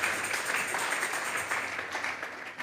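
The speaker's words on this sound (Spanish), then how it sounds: "Fuertes esas palmas al Dios de la gloria" A church congregation claps during a worship service, a dense steady patter of many hands heard from a moderate distance with an echoing, roomy quality.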